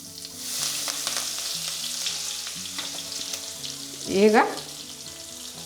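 Curry leaves and cumin fry in hot oil with a steady close sizzle and crackle. A louder spitting burst comes near the end, and a voice speaks briefly at the start.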